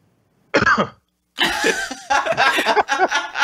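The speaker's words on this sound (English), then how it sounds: "I think you coughed before you said what you were going to say." A sharp cough bursts out once, followed after a short pause by a stretch of lively close talking.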